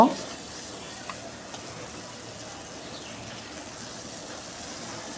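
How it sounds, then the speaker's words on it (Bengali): Spice paste with salt and turmeric frying in a pan for a tengra fish curry makes a soft, continuous sizzle up close, with faint scrapes of stirring and a couple of small knocks. "মশলা পেস্টটা আমি ভালোভাবে কষিয়ে নেব"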